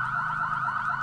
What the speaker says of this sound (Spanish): ¿Esa alarma la han colocado ustedes?